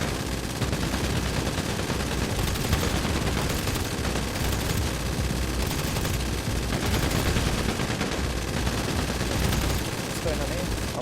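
Sustained rapid gunfire in GTA Online during a survival job, dense continuous bursts and fusillades filling the whole stretch, loud and near, with talk underneath.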